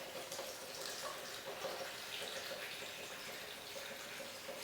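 Coconut water poured straight from its carton while making a green smoothie, a steady gurgling liquid splash of moderate loudness that runs for several seconds with no talk.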